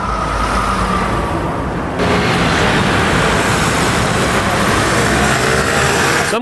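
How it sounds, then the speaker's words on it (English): Dense roadway traffic roars continuously, a broad rumble of passing vehicles that swells louder partway through. "we're gonna look for some traffic sound effects"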